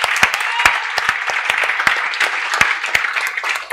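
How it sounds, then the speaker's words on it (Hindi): A lecture-hall audience of students claps loudly and enthusiastically, with dense, irregular hand claps that keep going without a break. "मैं चाहती हूं आप लोग अपने लिए एक बार जोरदार तालियां बजा दो यार"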